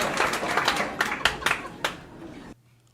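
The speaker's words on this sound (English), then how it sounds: "Yeah, clap, don't laugh." A small audience claps in a brief burst of loud, uneven hand claps that stops abruptly, leaving near silence.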